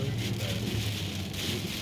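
Steady rain pours down during a tropical storm, a dense continuous hiss of drops on surfaces, close and fairly loud without a break.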